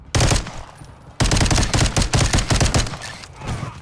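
Rapid automatic gunfire from Firecracker's freedom of speech finishing move in Modern Warfare 3, loud close bursts of shots after a brief pause, a dense rattling volley that tapers off near the end.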